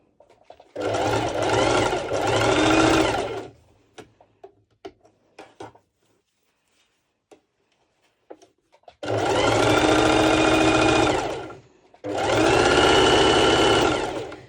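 A sewing machine stitches elastic onto bikini bottom fabric with ruffles, running in three loud continuous bursts separated by a quiet gap with faint handling clicks.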